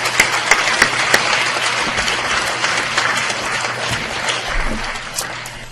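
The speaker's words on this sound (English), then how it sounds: "we want to give her a round of applause" A crowd at a keynote address claps steadily in sustained applause, a dense patter of hands filling the room and slowly tapering near the end.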